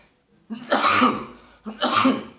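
Two forceful coughs, one after another about a second apart, close and loud with no talking around them.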